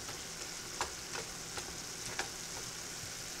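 Seasoned ground turkey sizzles quietly in a pan, a soft steady frying hiss broken by a few light clicks of a spoon stirring, with no talking.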